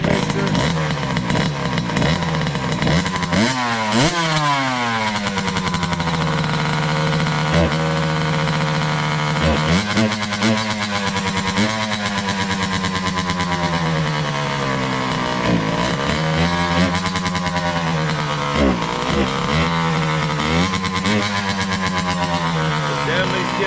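A 2003 Kawasaki KX60 dirt bike engine with a boggy running condition, revving up and down repeatedly in loud, continuous rising and falling sweeps for the whole stretch.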